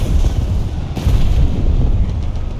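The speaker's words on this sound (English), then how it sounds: "Really big bomb." A big bomb explodes in War Thunder with a loud, low, rumbling boom, and a second deep blast rolls in about a second later.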